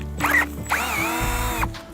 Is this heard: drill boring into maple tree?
yes